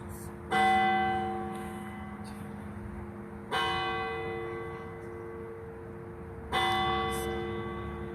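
Church bells strike three times at slow, even intervals, each loud clang ringing out and fading into a quiet background.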